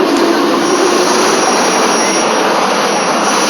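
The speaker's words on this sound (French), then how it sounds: "Les hélicoptères Puma sont en alerte, rotor tournant, prêts à décoller pour d'autres évacuations." Puma helicopters sit on standby with rotors turning at a military base during evacuations in Côte d'Ivoire, a loud steady turbine roar and rushing wash filling the whole clip without pause.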